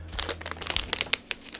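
Crinkly plastic packaging of a makeup product being pulled open, a rapid run of sharp, close crackles and crunches over about two seconds with no talking.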